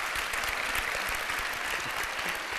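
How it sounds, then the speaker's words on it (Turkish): Studio audience applause on a Turkish TV talk show, a steady, full crowd clatter of many hands that holds at an even level throughout, with no voices on top. "Ya bir alkış alalım abi."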